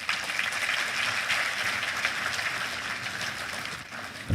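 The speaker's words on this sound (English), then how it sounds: "Please, another round of applause for him." A conference crowd at the Nigeria Economic Society's 66th Conference gives the Vice President sustained applause, a dense, even wash of clapping that holds steady throughout and fades slightly at the end.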